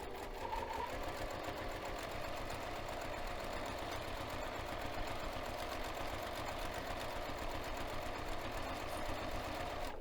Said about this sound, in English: I'm sewing on top of the clear vinyl.